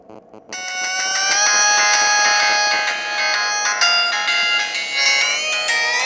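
A mobile phone rings with an incoming call, its steady electronic ringtone melody starting after a brief pause and carrying on loud and close to the end, with no talk over it.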